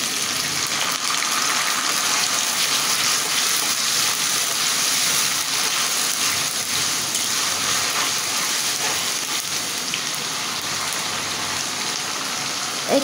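Water is poured into a pan of frying ginger, garlic and cumin paste, giving a continuous hissing, bubbling sizzle that stays fairly even and close throughout.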